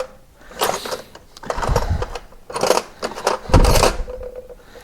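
Someone rummages through a loose set of metal Allen keys, producing irregular clinking and rattling bursts in several clusters, close by and fairly loud.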